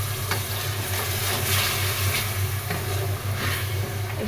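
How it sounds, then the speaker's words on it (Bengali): Lentils (dal) frying and being stirred in a pan with oil, cooked ahead of rice and vegetables; a steady, close sizzle runs throughout with faint scraping, no voices. "একটু ডাল কষিয়ে নিলাম।"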